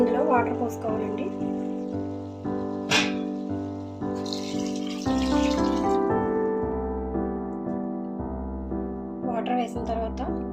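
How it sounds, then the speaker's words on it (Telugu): Water pours into a pot of mutton curry in a home kitchen, a steady running splash lasting the whole stretch, with someone talking over it. "ఇప్పుడు ఇందులో వాటర్ పోసుకోవాలండి."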